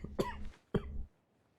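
Two sharp, close coughs in quick succession, each a short harsh burst, followed by quiet.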